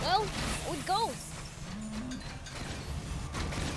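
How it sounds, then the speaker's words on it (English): A cow moos somewhere off in the distance, faint and low. Higher animal-like calls rise and fall over steady outdoor background noise, and there is no talk. "I can hear a cow somewhere."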